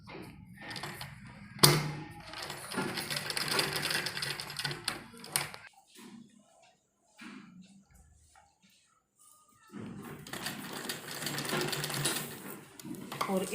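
Sewing machine stitching along the edges of a kurti, running in two close, steady bursts separated by a quiet stretch with light handling sounds and a single thump near the start.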